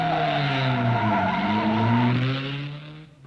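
A racing car on the 1953 Mille Miglia road race between Siena and Florence roars past close by, its engine note sliding in pitch as it passes, then fading out quickly at the end.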